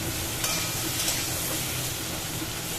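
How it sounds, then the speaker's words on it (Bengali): Food frying in a pan while mango pickle is being made gives a loud, steady, dense sizzle that fills the whole stretch without pause, with no talking. "তাহলে এটা ভাজা হোক"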